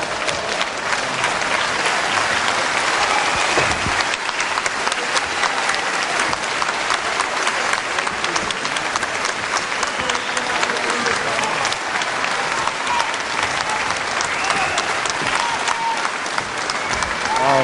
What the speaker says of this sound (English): I'm sure Brian Crabtree will ask for special applause here.